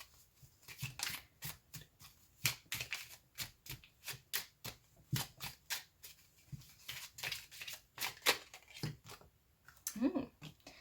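Tarot song cards being shuffled by hand in a string of quick, crisp riffling bursts, followed by a card pulled from the deck, fairly close and steady in rhythm with no talking.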